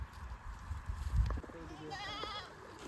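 Sheep out grazing with a herder on a farm, a few wavering bleats rising toward the end over low rumbling handling noise and faint background activity.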